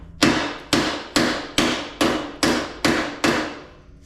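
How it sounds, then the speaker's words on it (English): Seven evenly spaced, ringing metallic blows from a 2-pound hammer tapping the axle of a 2009 Yamaha Raptor ATV, each strike loud and close with a brief decaying ring. "Let's give it a tap with a 2-pound hammer"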